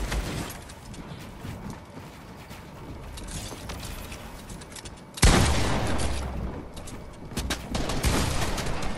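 Gunfire in Fortnite during an arena match, dense bursts of shots running throughout, growing louder and harder-hitting from the midpoint onward with heavy impacts and action noise.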